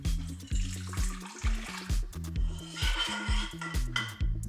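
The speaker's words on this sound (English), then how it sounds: "Sabri's gonna add a ½ cup of warm water to this." Warm water, about half a cup at roughly 110 degrees, pours into a bowl of yeast for whole wheat pita dough, a close splashing trickle with gurgling pulses running throughout.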